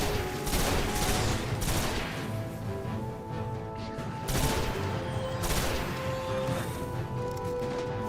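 Repeated bursts of rifle fire from the Stranger's Rifle in the game Destiny, loud clustered volleys of sharp cracks with brief pauses between bursts.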